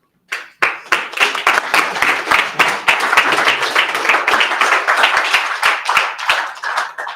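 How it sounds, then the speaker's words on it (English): Sustained applause from a crowd at a pitch event, dense clapping that starts abruptly and continues steadily throughout, loud and fairly close. "You can continue to applause, of course."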